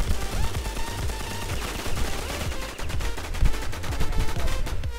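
Gunfire in the online shooter WarZ, heard as rapid, dense bursts of automatic shots and overlapping bangs, loud and continuous throughout with no pauses.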